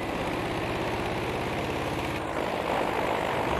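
A propeller plane in the video game Battlefield V drones past, its engine a steady, close, throbbing roar that swells slightly toward the end, with no voices.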